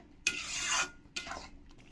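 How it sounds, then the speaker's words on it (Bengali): A spoon stirs whipped yogurt into parwal curry in a pan: two close, scraping, rasping strokes, the first longer than the second, with quiet pauses around them and no talk. "এই ফেটানোর দইটা দিয়ে দেব দিয়ে ভালো করে এর সঙ্গে মিশিয়ে নেব"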